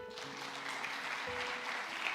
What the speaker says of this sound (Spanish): Y un aplauso para el Señor.